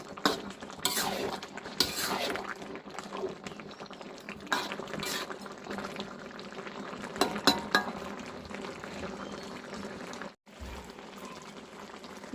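A spoon scraping and clinking in a pan of shrimp and vegetable curry, irregular stirring strokes over a soft simmering bubble, close and moderately loud with a brief pause near the end.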